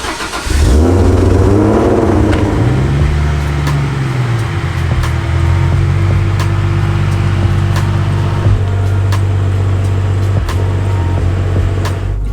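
A Barra-engined GT350 with a PPG sequential gearbox revs hard on a skid pad, its loud engine note rising and falling before settling into a steady, throbbing drone with sharp clicks and pops over it.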